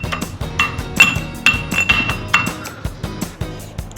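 Ginger and garlic being pounded in a pressure pot, sharp metallic clinking strikes in a steady repeated rhythm, about two or three per second, close and loud, with no talk.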